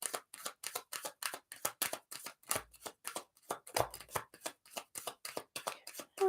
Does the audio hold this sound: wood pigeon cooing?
no